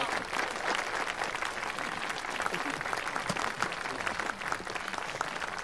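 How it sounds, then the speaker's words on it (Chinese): Steady applause from an audience at a gathering honouring a police officer who rescued a hostage, continuous clapping holding at an even level throughout with faint voices mixed in. "掌声鼓励"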